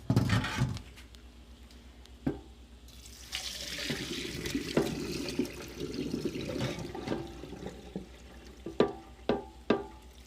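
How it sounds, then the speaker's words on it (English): Water being strained from soaked shredded cabbage for Salvadoran curtido slaw in a kitchen sink, with splashing and running water, scattered knocks and clunks of a strainer or bowl, moderately close. "Then we'll strain out the water."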